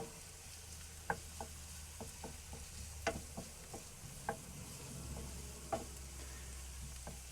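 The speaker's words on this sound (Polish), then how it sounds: "Już tu cebulkę smażymy." Onion sizzling quietly in a pan with a steady frying hiss, scattered small pops and clicks, and occasional stirring.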